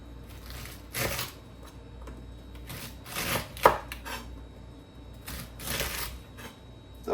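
Knife chopping okra on a cutting board for a Middle Eastern beef stew, in steady close thuds spaced about a second apart with quiet handling between.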